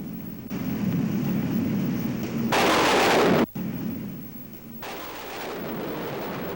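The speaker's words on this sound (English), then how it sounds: "The rolling thunder startled a young coyote at play near the water." Deep, rolling thunder over a forest with a low sustained rumble, swelling into a louder crack-like burst mid-way, then a sudden drop and a fainter continuing roll.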